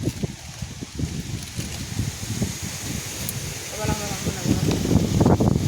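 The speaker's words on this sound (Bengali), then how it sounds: "হাওয়া দিচ্ছে, ডিস্টার্ব করছে হাওয়াতে।" Wind buffets the microphone outdoors in a village in low, rumbling gusts throughout, with a voice faintly underneath and the noise growing stronger toward the end.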